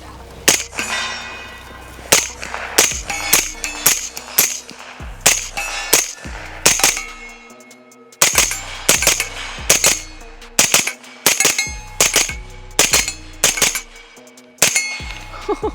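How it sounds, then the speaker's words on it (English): Blowback AR-9 carbine fitted with a MimTac trigger fired outdoors, loud sharp metallic gunshots in quick pairs and short bursts with brief pauses, each crack ringing off into a short echo. "This thing shoots awesome with this trigger"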